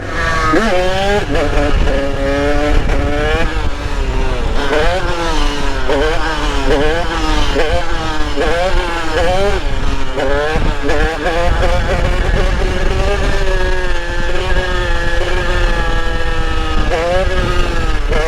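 A 50cc motorbike, an 86 Most, accelerating hard with repeated rising two-stroke engine revs as it lifts into a wheelie, loud and close throughout.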